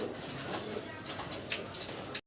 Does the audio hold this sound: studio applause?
no